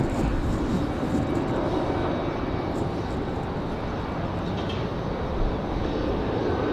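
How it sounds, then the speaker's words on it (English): A CRJ regional jet comes back around after a go-around at Raleigh-Durham airport, its loud, steady engine roar filling the whole stretch without letup. "Here comes our CRJ that did the go around. They're coming back now."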